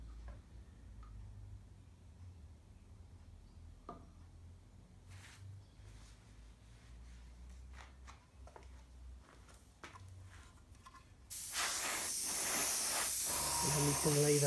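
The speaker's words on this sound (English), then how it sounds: "So I'll get some more in the airbrush." An airbrush spraying paint for a model gloss coat starts abruptly as a loud, steady hiss near the end, after quieter ticking and handling sounds.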